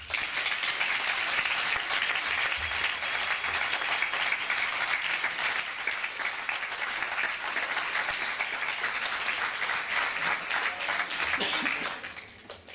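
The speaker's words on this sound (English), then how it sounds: "So I would like to have an applause for them." Delegates at a model UN closing ceremony receive sustained applause, a dense, even wash of clapping from a large audience that fades out at the end.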